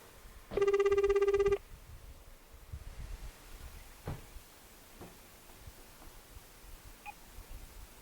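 Telephone ringtone on a call to a Chinese restaurant, a single electronic ring burst lasting about a second, clear and close, followed by quiet background with faint rustling.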